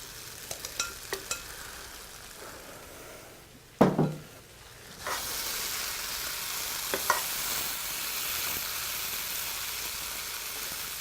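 Beef dropped back into a simmering pumpkin and cashew curry gives a sharp clatter and scrape of stirring, then a steady, bright sizzle that continues close and loud, with a few light utensil knocks and no talking.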